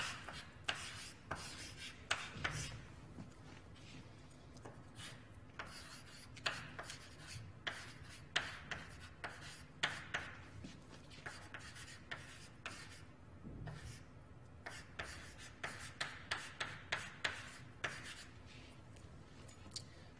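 A pen scratches out a band name by hand in quiet, close, rhythmic strokes, with short scraping bursts and small pauses between letters.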